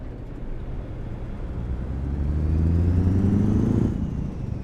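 Car engine idling and then revving up in a driving video game with modded engine sounds, a steady low drone that rises in pitch and loudness midway before easing off slightly.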